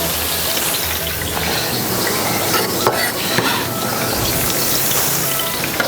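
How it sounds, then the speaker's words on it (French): Garlic and chopped onion sizzle in hot olive oil for a tomato sauce, a loud, steady crackling hiss close up with occasional pan and utensil clatter, no voices. "Maintenant, j'ajoute l'ail et l'oignon haché."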